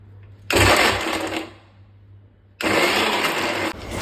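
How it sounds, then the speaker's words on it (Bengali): A kitchen mixer grinder grinds tomato, green chili and ginger in two loud, close bursts of high-pitched whirring motor noise, separated by a brief quiet pause. "টমেটো, কাঁচা লঙ্কা আর আদাটা আমি মিক্সিতে পিষে নিচ্ছি।"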